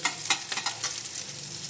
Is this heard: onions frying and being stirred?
yes